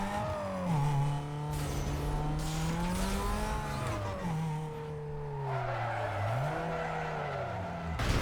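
A Need for Speed Most Wanted car engine drones and shifts pitch while tires screech in a long skid under braking, with a final abrupt thud as it hits another car.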